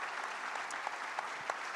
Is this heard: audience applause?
yes